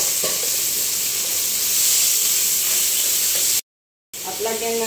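Browned chicken sizzles in a pan with a steady frying hiss that swells slightly partway through. A brief dropout of silence follows, then the sizzle returns with faint voice-like tones over it.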